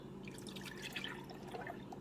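Creamer pours into a glass measuring bowl with a soft, faint trickling and splashing of liquid lasting a couple of seconds, with no talk.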